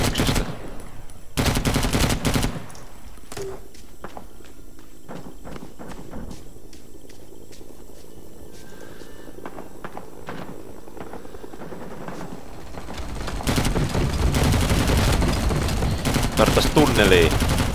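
Bursts of rapid automatic M60 machine gun fire from a video game, loud at the start and again near the end, with quieter game ambience in between.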